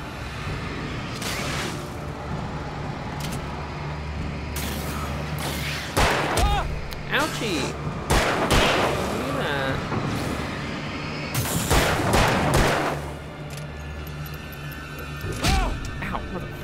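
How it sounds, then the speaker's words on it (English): Shotgun blasts in a video game ring out as loud, sharp cracks at irregular intervals over constant game sound and a low droning hum, with a cluster of heavy hits near the middle. "Alan, fire the goddamn shotgun"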